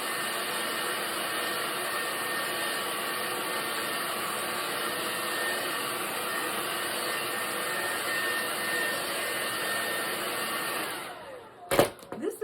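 A hair dryer blows a steady, even whoosh close by to dry a watercolor painting, running unbroken for about eleven seconds before cutting off, followed by a few brief handling knocks.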